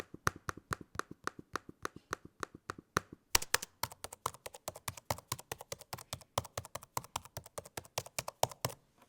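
Typing on the keyboard of a 15-inch Microsoft Surface Book 3 laptop: crisp, evenly spaced key taps, then a faster, denser burst of clicks after a short pause, close up and fairly quiet with no talk.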